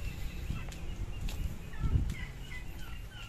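Several farm chickens cluck and murmur at their nest, a steady close chorus of short throaty calls with a few sharper knocks mixed in, with no voices.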